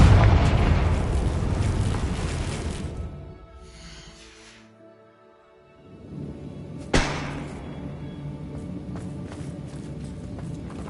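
Confringo explosive spell blasts in Hogwarts Legacy open with a loud, rumbling explosion that fades into near quiet. A sharp, close blast then follows, with a steady roar trailing after it.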